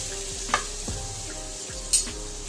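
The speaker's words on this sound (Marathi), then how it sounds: "आता आपण यामध्ये हे किसलेले गाजर टाकूया आणि छान असं तुपामध्ये भाजून घेऊया" Grated carrot roasts in hot ghee with a soft continuous sizzle, broken by a few clinks and scrapes of a spoon stirring it, close and fairly quiet.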